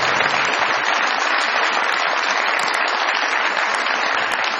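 A studio audience at a comedy show claps loudly and steadily, a dense and even wash of applause with no break and no voices heard over it.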